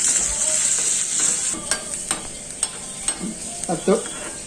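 Curry leaves fry in a pan with a steady sizzle and crackle, overlaid with a run of spoon scrapes and taps against the pan.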